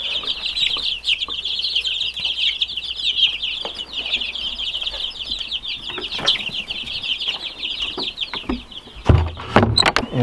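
Young chicks destined to become egg-laying hens chirp and cluck continuously in a dense, high-pitched chorus, close by, with some rustling and a louder bump near the end.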